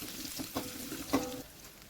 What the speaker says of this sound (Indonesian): Kita tumis dulu sampai benar-benar wangi.